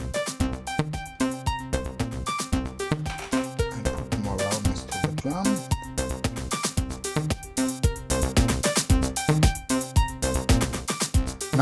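A dense, loud electronic sequence plays from an OP-Z synthesizer, with a steady looping drum pattern and snare hits running under synth tones, repeating in a tight rhythm with no speech.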